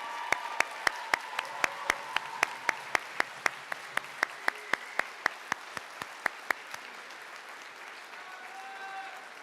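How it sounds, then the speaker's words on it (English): Clapping at a university bioengineering graduation celebration, heard as sharp, evenly spaced claps in a steady beat that rises above a low murmur of voices. The claps stop about two-thirds of the way through, leaving only quiet room chatter. "Let's have some applause."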